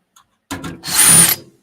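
A power drill driving screws, with a brief whirr, a pause, then a longer rising buzz close by, alone without talk.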